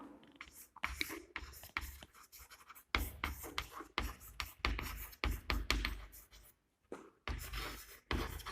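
A marker or chalk is scratched across a classroom board in quick bursts of strokes, close and fairly faint, with short gaps as each word of a definition is written.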